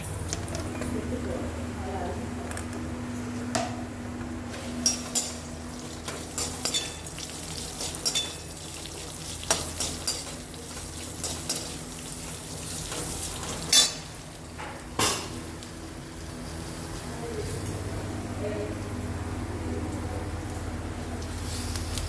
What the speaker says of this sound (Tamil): இந்த ஹோல் ஸ்பைசஸோட இந்த இஞ்சி பூண்டு வெங்காயம் எல்லாம் சேர்த்து நல்லா வதக்கிக்கலாம்